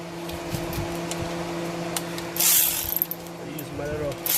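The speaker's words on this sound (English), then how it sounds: "I use my little handy power tool here" A handheld power tool loosening bolts on a Toyota Highlander brake caliper bracket gives a loud, short whirring burst near the middle, amid a steady background hum and scattered clanks, with someone talking.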